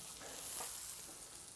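Potato cakes made from Christmas leftovers fry in butter in a pan on a weak stove, giving a steady, faint hiss and crackle with no talk over it.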